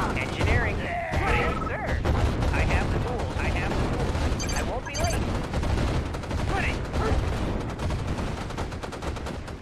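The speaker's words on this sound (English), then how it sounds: "Their cannons spin and fire faster the longer a target is within range." Gatling cannon defense structures in Red Alert 2 firing in sustained rapid bursts, dense mechanical gunfire layered with booms and battle effects, loud and continuous, with in-game unit voices cutting in.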